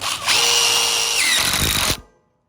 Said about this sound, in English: I'm gonna go into the Owens Corning lumber with the Simpson strong tie screws